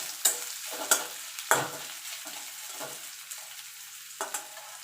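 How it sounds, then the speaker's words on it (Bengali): Onions fry in a pan for a begun bhorta (mashed eggplant), giving a steady soft sizzle broken by several sharp scraping stirs of a spatula at irregular intervals, close and alone. "আমি এখানে পেঁয়াজ ভেজে দিচ্ছি"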